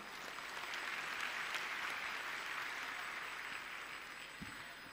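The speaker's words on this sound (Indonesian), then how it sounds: "saya kira kita kasih aplaus dulu untuk Mbak Alisa Wahid" An audience claps steadily at a university gathering welcoming a young Gus Dur figure, a dense even wash of applause that holds for the whole stretch and then slowly eases off.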